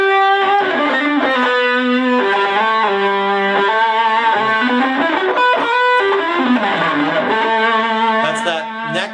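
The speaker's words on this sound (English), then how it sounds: "pickup, amp distortion, and a little bit more distortion from the pedal" Electric guitar on the neck pickup through a distorted amp with an extra distortion pedal, playing a sustained blues-rock lead line with bends, loud and continuous throughout.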